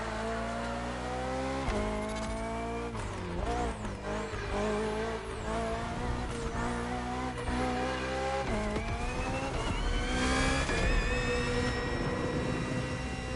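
A hybrid V8 race car engine in The Crew Motorfest revs loudly and continuously, its pitch climbing and dropping through gear changes, with brief tire squeal along the way.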